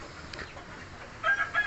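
Elba chickens cluck and crow, faint at first and then louder with a short run of calls toward the end, over a steady low background.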